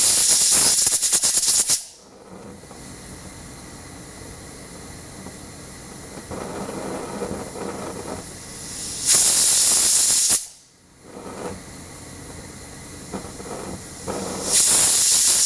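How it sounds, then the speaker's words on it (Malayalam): Pressure cooker on the stove cooking dal, loud hissing steam blasts that cut off and return in three bursts, each rushing whistle filling the space before a short quiet gap. "ഇപ്പോൾ കുക്കറിൻ്റെ 3 വിസിൽ കേട്ടു"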